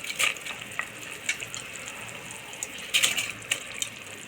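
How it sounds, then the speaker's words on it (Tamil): Basmati rice pours into simmering water, with bubbling and a soft rush, punctuated by a few clinks and taps of a utensil against the pot. "இப்போது இதில் 1/4 கிலோ பாஸ்மதி ரைஸ் இதில் ஆட் பண்ணுறேன்."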